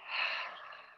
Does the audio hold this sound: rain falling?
no